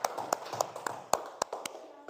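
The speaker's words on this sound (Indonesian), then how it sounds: "Tepuk tangan." A classroom of students claps in loose, uneven rhythm, with about a dozen distinct hand claps rising from a low murmur of room noise.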